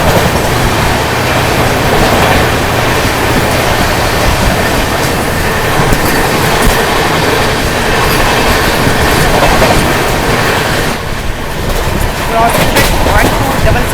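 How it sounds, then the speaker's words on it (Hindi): The Ayodhya Cantt Vande Bharat Express passes at Aligarh with a loud, steady rush and rumble, faint wheel clatter running throughout. "और यहाँ अलीगढ़ में अपनी मुलाकात हो रही है 22426 अयोध्या कैंट वंदे भारत एक्सप्रेस से।"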